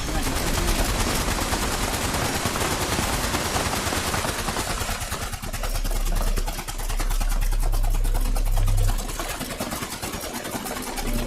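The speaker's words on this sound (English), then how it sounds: "Everybody's shooting at the minute." Many players fire at once in the video game Fallout 76, making a dense, loud, unbroken wall of rapid gunfire with a droning engine-like hum rising underneath partway through.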